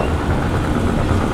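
A motorcycle engine keeps running just after a crash between two small motorbikes, a loud, rough, steady low idle heard close up without any talking.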